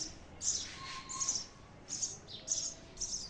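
Baby birds chirp from inside a nest in short, high, repeated bursts, faint and close with quiet gaps between the calls.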